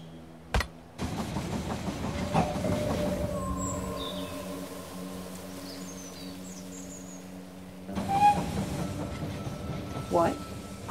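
A train in the video game They Are Billions rolls into a station with a low mechanical rumble and droning engine tones, fading briefly before another surge of rolling noise near the end.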